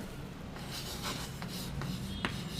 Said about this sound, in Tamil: இப்போ பாருங்களேன், நான் ஒரு சென்டென்ஸ் எழுதுகிறேன்